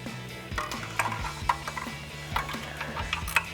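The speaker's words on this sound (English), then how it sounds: "just flip the ratchet, go back to tightening and work it back and forth to work some of that free" A hand ratchet works rusty exhaust nuts under a Ford Bronco during removal of the stock cat-back exhaust, giving irregular close clicks and metallic knocks in short back-and-forth bursts.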